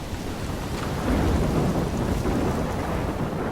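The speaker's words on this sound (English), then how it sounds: "I'm trapped in a storm?" Thunderstorm in the video game Life is Strange, with heavy rain hiss and rolling thunder that swells partway through, loud and continuous with no talk.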